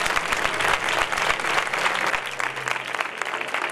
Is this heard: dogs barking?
no